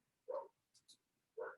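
A dog barks twice in the background, short and faint, with a quiet pause and a few small clicks between the two yaps.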